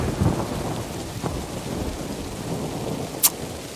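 A village thunderstorm brings constant downpour with low thunder rumbling beneath it, plus a sharp brief crackle near the end, loud and enveloping, with no one speaking.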